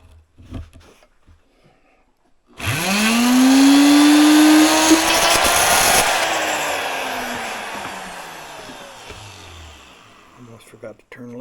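A power drill bores screw holes into a wooden banjo peghead while fitting geared tuners to a Noah Cline banjo. The motor spins up sharply, whines loud and close for a few seconds, then winds down.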